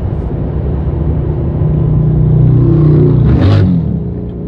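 A very loud motorcycle roars past close by in traffic while lane splitting, its engine rumble building over a few seconds with a sharp burst of revving near the end.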